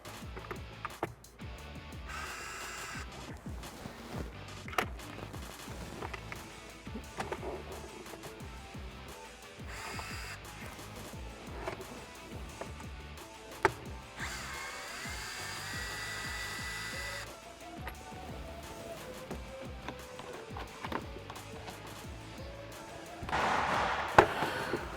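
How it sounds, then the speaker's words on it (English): Small hand tool work on a 2007-2012 Jeep Wrangler JK steering column: a T20 Torx bit backing out three shroud bolts, giving scattered clicks, taps and short whirring bursts, close and fairly quiet, with a louder rattle near the end. "we're going to use a T20 Torx bit and remove the 3 bolts connecting our shroud to our"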